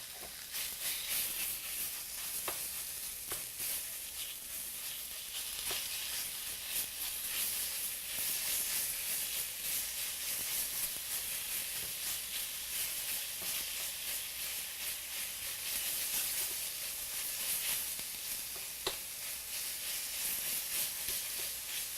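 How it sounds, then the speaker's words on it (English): Sausage frying in a pan for a taco pizza, giving a steady, loud hiss and sizzle throughout with faint scraping stirs now and then and no voices. "Now we're going to begin cooking our sausage."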